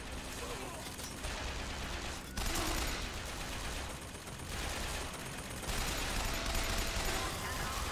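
Machine gun fire in the game Bioshock Infinite, dense continuous rattling bursts, loud and close, with slight surges and dips, a voice speaking faintly underneath.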